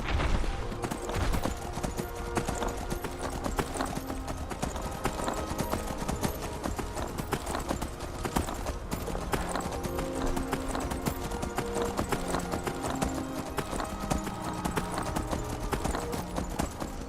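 Horse hooves clip-clop steadily throughout a ride in the video game Skyrim, a continuous, even rhythm set under a dense layer of game music and ambient sound, with no talking.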